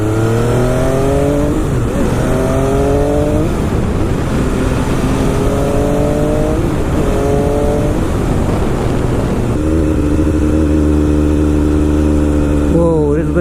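MV Agusta F3 sport motorcycle ridden on a winter road, its loud close engine rising through the revs in repeated pulls with gear changes, then holding a steady drone, with wind rush throughout.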